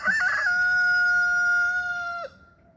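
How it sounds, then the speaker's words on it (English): A rooster crows once up close, a loud drawn-out call that cuts off sharply after about two seconds, leaving faint background. "at least the roosters and the birds are."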